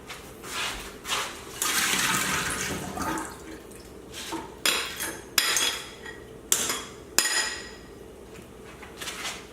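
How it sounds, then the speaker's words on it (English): Cooked summer beans and their water pour through a strainer in a home kitchen, giving a rushing splash with clattering metal knocks and sharp clinks that stop and start. Nobody speaks. "take a strainer, or whatever you want to use, and drain it"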